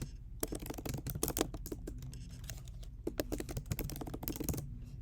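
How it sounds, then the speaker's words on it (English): Rapid clattering keystrokes on a computer keyboard, close and steady with brief pauses, continuous typing with no voices. "You can type your own stuff in."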